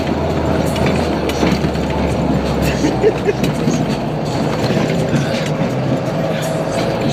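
An Isuzu Trooper SUV drives fast along a forest track, making a loud, steady engine rumble with continuous rattling and clatter throughout, and faint voices beneath it.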